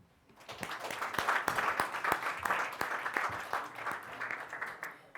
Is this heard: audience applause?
yes